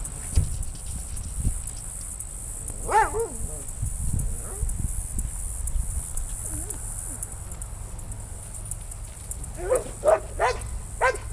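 A dog barks outdoors beside a stopped vehicle, a few short yelps near the start, middle and end, fairly close, with a constant background hum and a person talking.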